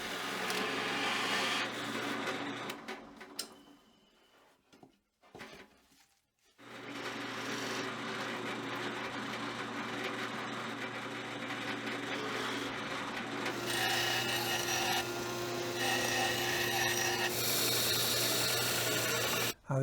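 A power drill bores 1.5 inch holes into a wooden workbench top, a steady loud whirring grind that stops briefly and then resumes for a long continuous run.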